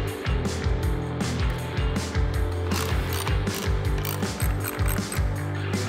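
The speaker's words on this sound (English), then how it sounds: "Now all we've got to do is bolt the frame into the compartment here and sit it in place" A ratchet wrench bolts a frame into a vehicle compartment during a 12-volt travel oven install, with rapid, rhythmic pawl clicking in repeated strokes, close and fairly loud, steady throughout with no talk.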